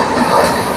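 Coromandel Express passenger train running on rails at speed, a steady, loud, dense rumble of wheels and carriage noise close by, with no talk over it.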